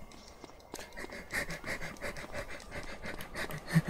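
Steady, fairly quiet panting from a character in GTA San Andreas: The Definitive Edition, rapid rhythmic breaths running throughout with no talk over it.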